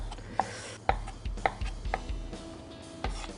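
A knife cuts thick slices of marian plum on a board, giving about six sharp taps at uneven intervals, close and clear with no talk.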